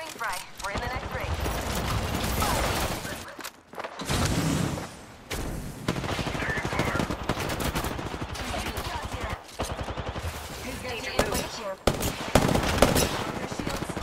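Automatic and rapid gunfire in the battle royale game Apex Legends, sustained bursts crackling through a busy firefight, with players talking over the shooting throughout.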